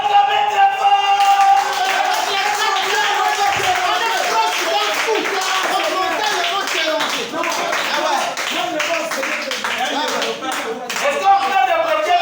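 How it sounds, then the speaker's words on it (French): Dense, loud audience applause at a religious gathering, sustained clapping from many hands for several seconds with voices mixed into the crowd noise. "Acclamez très fort."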